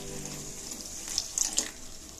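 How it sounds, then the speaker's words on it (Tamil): Water poured into a mixer grinder jar while making soya chunk gravy, a steady trickling splash with a few brighter spurts near the end, close and fairly quiet, no talk. "இப்போ இந்த மிக்ஸி ஜார்ல கொஞ்சமா தண்ணி ஆட் பண்ணி இந்த மசாலாவோட சேர்த்துக்கலாம்."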